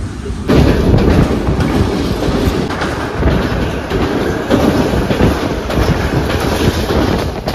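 Inside the moving Saraighat Express, a loud continuous rumble of wheels on rails with rhythmic clatter and wind rush, steady throughout with no talk.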